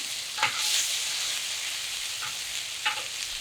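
Potatoes sizzle and fry on a Camp Chef griddle, a steady loud crackle with a few scraping stirs of a spatula breaking through.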